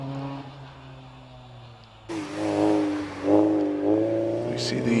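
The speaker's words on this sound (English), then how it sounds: "We see the Honda CRX now going around the Torres" A Honda CRX race car at a club hill climb accelerates through a bend, its engine note rising and swelling in bursts over a steady lower drone, moderately loud and fairly close.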